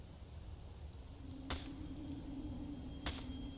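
Crimson nirnroot plant vibrating in Skyrim, a faint high ringing chime that repeats twice about 1.5 seconds apart over a quiet background hum.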